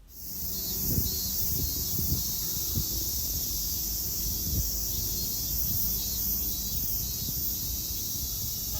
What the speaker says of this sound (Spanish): son los meses donde salen los semi o las cigarras